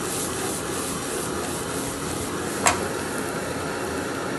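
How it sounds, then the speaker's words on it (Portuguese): Generous portion of garlic frying in a pan, a steady soft sizzle with continuous crackling, near and even throughout, with one brief clink partway through. "Coloca uma porção generosa de alho. Ó, deixa o alho dar uma dourada."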